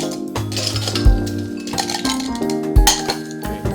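Ice cubes clatter and clink into a metal cocktail shaker, loud and close, with a run of bright knocks and rattles.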